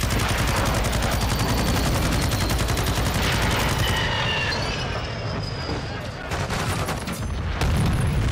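Dense, continuous automatic gunfire in Call of Duty: Modern Warfare rattles loudly and almost without pause through the whole stretch, with battle noise layered beneath and a voice briefly audible.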